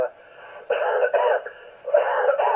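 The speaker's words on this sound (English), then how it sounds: "sorry, got awful cough as well" Several harsh coughing bursts come over a narrow, crackly amateur radio channel, with a short pause between them.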